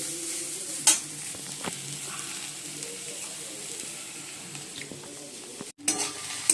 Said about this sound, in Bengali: ভালো করে একটু ভেজে নিচ্ছি